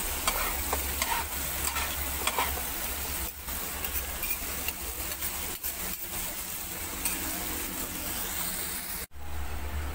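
Fried rice with oyster sauce being stirred in a hot pan, a spatula scraping and tossing in a steady rhythm over a constant close sizzle, with a brief pause near the end and no talking.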